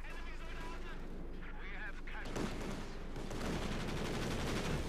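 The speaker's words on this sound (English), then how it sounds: "He calls in the strafing support here against PCS positions." Strafing support attack in Company of Heroes 2 rips through with dense rapid gunfire and explosive rumble building in the second half, while a commentator talks over the battle noise.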